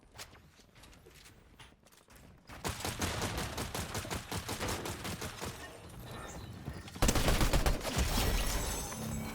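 Gunfire in the video game Fortnite, with rapid bursts of shots coming from several directions, starting faint and then becoming loud and continuous, alongside footsteps and rattling effects.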